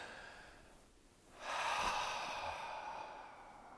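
A slow, deep breath is taken in and let out, starting as a soft near-silent pause and swelling into a long airy exhale that fades gently.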